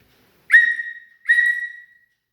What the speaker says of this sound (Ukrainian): Будь ласка, дуже уважно слухайте, скільки раз я свисну.